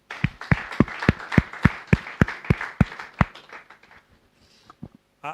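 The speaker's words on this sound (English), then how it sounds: "So a round of applause for the EnAccess team." Scattered, sharp hand claps from a small audience at an energy access symposium in Abuja, fairly close and loud at first, then thinning into a few isolated claps before fading out.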